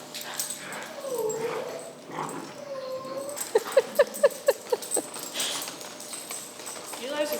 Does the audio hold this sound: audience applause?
no